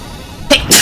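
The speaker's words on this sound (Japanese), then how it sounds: "くしゃみ出そう。" A person sneezes close up, a sharp two-part burst that is loud and abrupt after a quiet moment.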